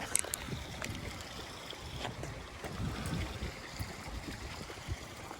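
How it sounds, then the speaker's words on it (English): Faint splashing of an outdoor water fountain, a soft continuous trickle heard from a short distance, partly masked by gusts of wind buffeting the microphone. "I love that sound. Waterfalls and fountains."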